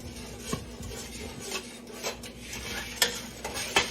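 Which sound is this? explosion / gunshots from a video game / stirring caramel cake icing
stirring caramel cake icing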